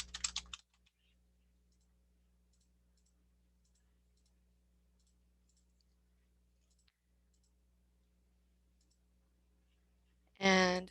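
Faint, scattered mouse clicks while working on a Word document on a computer, soft and close over a low electrical hum, with brief bursts of speech at the start and end.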